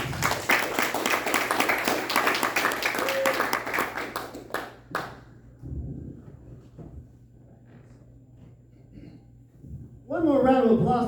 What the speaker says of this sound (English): Clap it up for Omar Cruz.